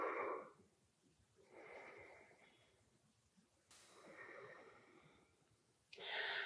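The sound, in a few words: slow deep breathing during yoga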